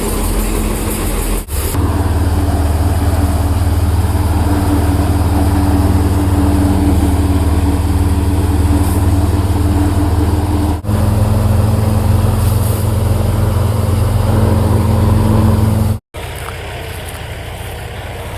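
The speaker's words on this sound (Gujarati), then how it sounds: "આજ તો 2 ટ્રેક્ટર ચાલુ કર્યા છે" A tractor engine runs steadily in a field where bajra is being sown, a loud continuous low drone with a brief drop near the end.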